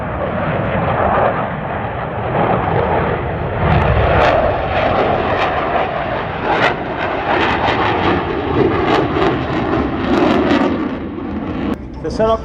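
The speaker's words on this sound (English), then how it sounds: "As they pull the nose back up, watch how the aircraft swaps from nose high to nose low, rapidly pointing back towards the ground." A propeller aircraft performing aerobatics at the Dayton airshow drones loudly overhead, its engine note rising and shifting continuously while an announcer talks over the public address.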